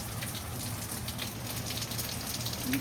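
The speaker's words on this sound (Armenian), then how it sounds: "Տեսեք ինչպիսի անձրև է գալիս" A steady nighttime downpour hisses and patters without pause, drops striking hard surfaces in a thick, even wash of sound close to the listener.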